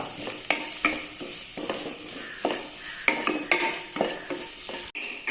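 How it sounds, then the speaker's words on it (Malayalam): Ground fennel and black pepper sauté in a hot pan for a green peas stew, with a steady sizzle under repeated scraping strokes of a spoon against the pan bottom, close and fairly loud, with no talking. "ഇത് രണ്ടും കൂടെ ഒന്ന് വഴറ്റി കൊടുക്കാം"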